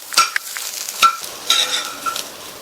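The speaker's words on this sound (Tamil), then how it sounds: "நல்லா ஒரு தடவை கலந்து விட்டுறலாம்" Plantain stir-fry with coriander leaves being stirred in a pan: a few distinct scraping, clattering strokes against a light sizzle, close up, with no one talking.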